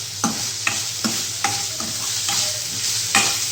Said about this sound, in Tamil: நம்ம ஹை ஃப்ளேம்லேயே வச்சு வதக்கிக்கலாம்.